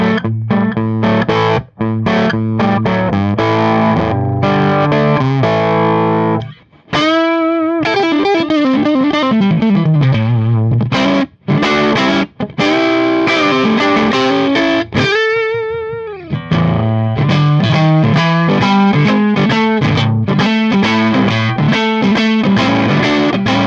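Electric guitar played through a NACE AMPS M2-7 amp turned all the way up, loud and heavily distorted, with chugging chords, sustained bent notes and brief pauses, heard alone without talk.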